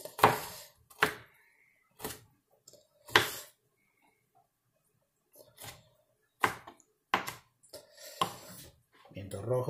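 A knife chops red and yellow bell peppers on a cutting board in a kitchen, with sharp, separate thuds spaced by pauses, then a quicker cluster of cuts near the end and a voice talking briefly.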